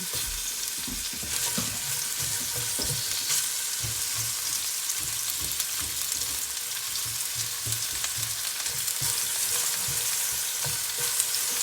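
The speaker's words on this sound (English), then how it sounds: "I'm gonna let that saute for about a minute or 2" Bok choy sautéing in a pan as a side for venison steak, giving a constant close sizzle and crackle with occasional stirring clatter and no talk.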